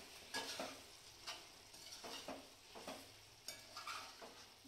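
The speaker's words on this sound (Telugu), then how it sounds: "పెరుగు వేసుకొని బాగా కలుపుకోవాలి." A spoon scrapes and stirs curd through chicken biryani in a pot over heat, giving repeated uneven scraping strokes over a faint steady sizzle, fairly close and with no talking.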